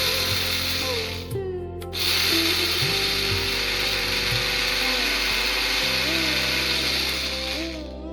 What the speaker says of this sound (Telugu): ఇలా వేగినటువంటి పోపు దినుసుల్ని చల్లారిన తర్వాత ఒక మిక్సీ జార్లోకి తీసుకుని